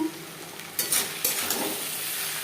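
Potatoes are stirred into an onion-tomato masala in a pan over medium flame. A soft background sizzle runs under a few scraping spatula strokes and light clatters against the pan, and no one speaks.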